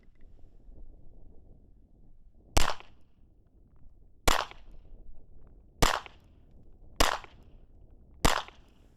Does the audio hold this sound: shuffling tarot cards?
no